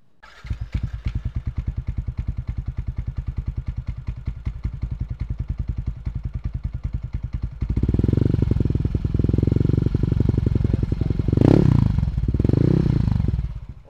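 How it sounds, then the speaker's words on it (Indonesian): A Yamaha Nmax scooter with a bore-up engine and racing exhaust idles with a rapid, loud, pulsing putter, then revs into a deep, bassy roar with two sharp throttle blips near the end, close up. "Boleh dengar suara knalpot, apa namanya yang bor apanya?"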